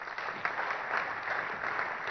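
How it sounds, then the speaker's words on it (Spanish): Audience applause at a 2015 Guatemalan presidential candidates' debate forum, a steady, moderately loud round of clapping from a seated crowd. "Un fuerte aplauso"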